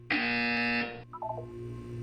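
A loud, steady electronic buzzer from the game Portal 2 sounds for about a second, then cuts off, followed by a few faint stepped electronic blips.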